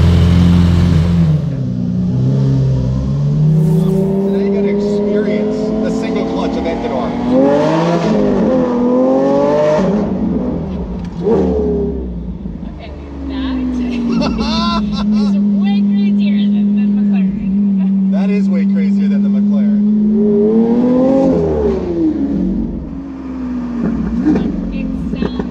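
A straight-piped Lamborghini Aventador Roadster on the Las Vegas Strip revs loudly and close, its engine note climbing and falling in repeated surges, with lulls near the middle and voices underneath.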